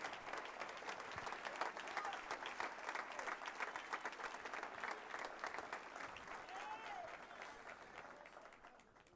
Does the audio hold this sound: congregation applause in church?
yes